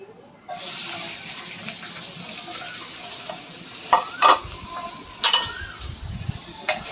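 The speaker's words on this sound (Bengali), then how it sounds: "তো রসুনটা একটু ভাজা ভাজা করে নেব" A sharp sizzle starts as garlic hits hot oil, then a steady frying crackle continues, broken by a few louder clinks of stirring.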